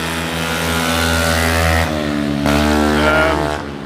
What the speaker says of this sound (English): have noisy motorbikes going past